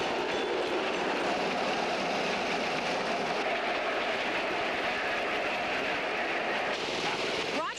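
A train rolls along an old railroad, the LJ&W, with a dense continuous rumble and rattle of cars passing close by at steady volume throughout.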